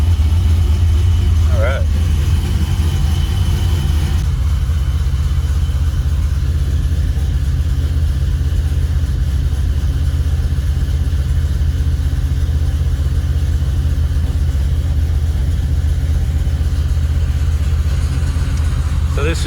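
An LT1 V8 in a C3 Corvette idles with a loud, deep steady rumble close up, its pitch shifting slightly early on. Someone speaks briefly over it.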